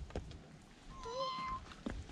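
A cat on Mount Ikoma gives a single short meow, faint and a little distant, against quiet outdoor background with a couple of soft thumps.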